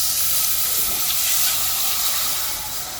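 Turkey stock pours into a pan of make-ahead gravy with a steady, loud, broad hiss and splash that holds for the full few seconds before easing slightly at the end.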